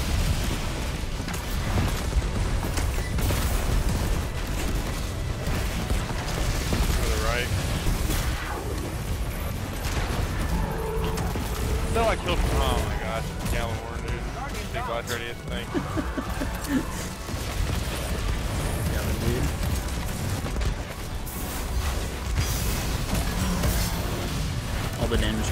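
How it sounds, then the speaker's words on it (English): Repeated booming blasts and crackling bursts from Destiny 2 go on throughout, dense and loud, mixed with game effects and occasional voices. "All the damage comes from fucking explosions."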